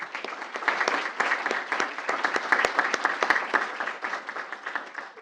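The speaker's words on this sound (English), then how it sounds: "So big round of applause to all of them." Steady applause from a school board meeting audience honoring supporters of a high school girls lacrosse program, dense and continuous clapping of a full room held at an even level for several seconds.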